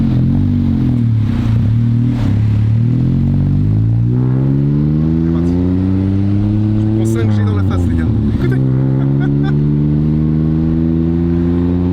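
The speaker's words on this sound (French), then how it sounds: "Écoutez l'accélération du tuk-tuk." A tuk-tuk with a loud exhaust pulls away from a red light in Thailand, its engine revving hard and rising in pitch through the gears, close and dominant throughout, with voices partly under the engine noise.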